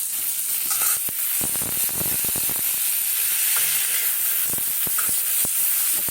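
Spice masala fries in a pan for an ol (elephant foot yam) kofta curry, a steady loud sizzle with stirring scrapes and clatters throughout, no voices.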